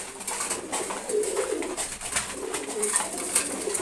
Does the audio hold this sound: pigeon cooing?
yes